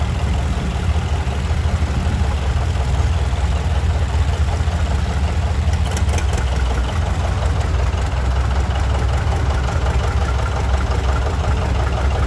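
A 1936 McCormick Deering W30 tractor engine in a farm days parade gives a loud, continuous, low knocking idle close by, holding steady from start to finish.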